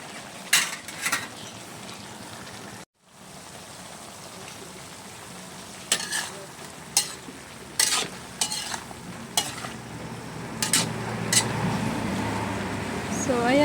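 Pinakbet vegetable stew fries in a pan under a background sizzle, broken by repeated scraping and clinking stirs of a utensil against the pan. The cooking sounds pause briefly near the start, and speech is present.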